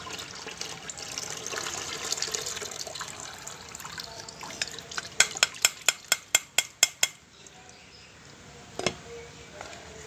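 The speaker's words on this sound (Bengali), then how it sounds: "এই জিনিসটা কিন্তু আমরা এর মধ্যে সুন্দর করে কিন্তু ছেঁকে নেব।" Homemade liquid plant fertilizer strained through a sieve, with continuous watery trickling and splashing, then a quick run of sharp, evenly spaced drip or clink sounds near the end, close and fairly clear with no talking.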